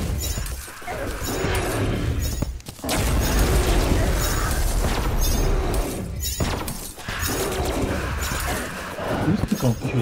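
Loud bursts of gunfire and crashing impacts from the Moon Lord fight in Terraria come in rapid clusters over a dense, noisy game soundtrack.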